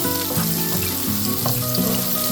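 Onion sautéing for a Goan kingfish masala curry, a steady loud sizzle and hiss of frying with occasional light stirring scrapes, close up throughout without talk.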